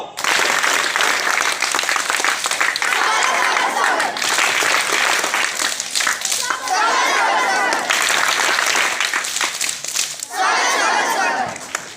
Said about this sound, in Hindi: स्वागत ताली